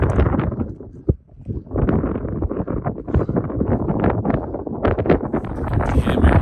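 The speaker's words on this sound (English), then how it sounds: "It's so windy" Strong wind gusting across a steep mountainside on the climb of Mount Rinjani, a loud continuous roaring buffet on the microphone with fluctuating gusts throughout.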